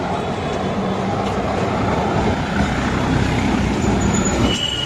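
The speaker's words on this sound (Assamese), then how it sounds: "এইখন কি ৰাস্তাত চলা ট্ৰেইন দেখোন।" A Kolkata tram rolls along a city street with a steady, loud rumble of rail wheels on track. Faint metallic squeals break through near the end, over continuous traffic noise with no voices.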